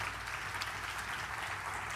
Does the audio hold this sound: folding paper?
no